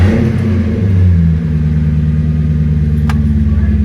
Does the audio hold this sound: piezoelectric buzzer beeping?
no